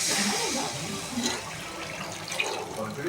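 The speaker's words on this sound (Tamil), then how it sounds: "கழுவி கொஞ்சம் தண்ணி ஊற்றிக்கலாம்" Water runs and splashes for fish kulambu in a kitchen, a steady, moderately quiet rush that fades slightly over a few seconds.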